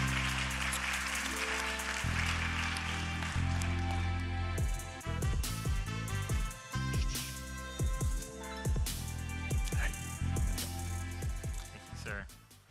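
Conference audience applauding at a crypto summit, a broad sustained wash of clapping that swells and carries on for several seconds under music-like tones, loud and close throughout.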